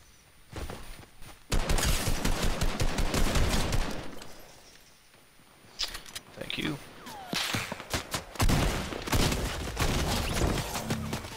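Sharp cracks of sniper and other gunfire in Fortnite ring out in dense bursts, loud and repeated, with a lull midway before more shots and clattering footsteps, while a player talks.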